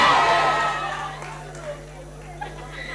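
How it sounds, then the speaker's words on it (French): A school audience at a comedy show in Yaoundé cheers and shouts loudly, and the crowd noise quickly fades to a low murmur. "Est-ce qu'on peut applaudir, s'il vous plaît?"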